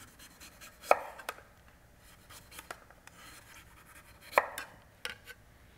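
A kitchen knife slices down through butternut squash where the peel meets the flesh, giving two crisp, close cutting strokes a few seconds apart with small scrapes and taps in between.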